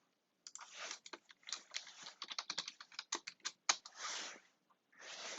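Username and password typed on a computer keyboard: quick irregular bursts of key clicks and taps, close and clear, with short pauses between them and no talking.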